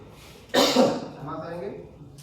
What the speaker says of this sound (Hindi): सूखी खांसी है, कोई दिक्कत नहीं है